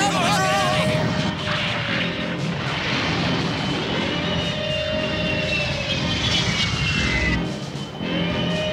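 An animated cartoon airplane engine drones loudly and steadily, a sustained roar with shifting whine tones, joined by overlapping music and effects.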